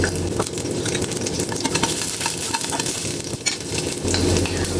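Garlic and ginger fry in a hot pan, giving a steady, close crackling sizzle with occasional stirring scrapes, continuing unbroken with no talk over it.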